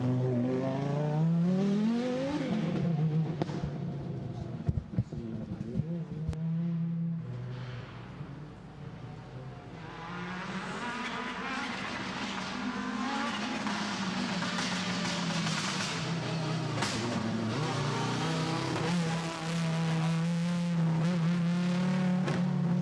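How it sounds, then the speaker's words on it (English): Audi S1 rally cars tear through a forest stage at a motorsport festival, engines revving hard and climbing through the gears, loud and continuous with echo off the trees and brief pops as cars pass close. "listen into the fantastic sound of these cars as they echo through the forest"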